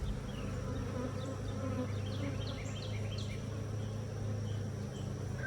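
Honey bees swarm around a frame lifted from an open backyard hive, a steady close drone of many wings with individual bees whizzing past, and no talking.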